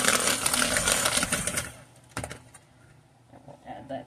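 A KitchenAid handheld electric mixer whirs loudly and steadily for about a second and a half while mixing a donut batter, then cuts off into quieter clatter and faint background noise.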